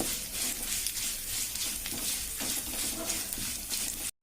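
Dry coconut, fenugreek and curry leaves roasting in a hot pan give a steady close-up sizzle with soft stirring scrapes throughout, cutting off abruptly at the end.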